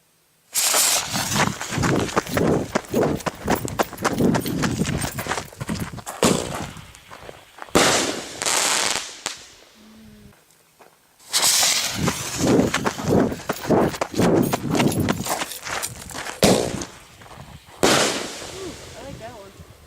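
Fireworks artillery shells launch from tubes at a nighttime fireworks show: loud crackling bursts and thumps in two long volleys, separated by a quiet gap, with voices audible in the background.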